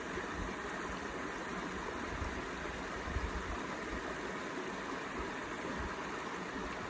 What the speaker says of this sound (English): The water's a little loud behind me here